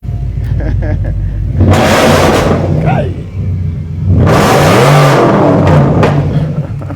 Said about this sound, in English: So this is going to be Very, very loud. the loudest car in Ghana.